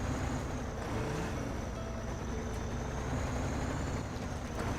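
A tractor engine idles and runs in SnowRunner, a steady low droning hum with a faint whistle on top, constant and even throughout with no talk.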